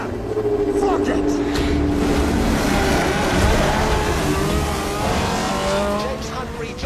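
Formula 1 race cars at speed in a 1970s-era race, a continuous loud engine roar with rising and falling pitch as cars pass, with a voice talking over it.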